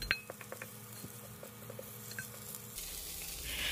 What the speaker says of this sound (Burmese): ရေနည်းနည်းထည့်မယ် တမောက်သွားအောင်မှွေပေးမယ်